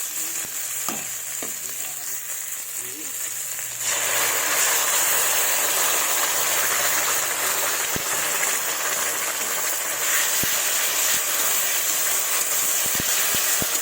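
Masala paste hits reddened onions in a hot pan for a Bengali pata fish and brinjal curry, and a loud, steady sizzle and hiss starts suddenly after a few seconds of quieter cooking and continues close up.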